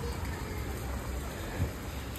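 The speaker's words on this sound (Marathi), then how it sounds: "पाऊस तर काय थांबत नाही आहे." Steady, soft rain hisses continuously, heard from a bus near the Mahad ST depot, a faint even patter with a low background rumble.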